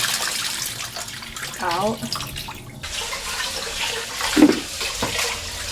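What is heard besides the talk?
water draining while washing rice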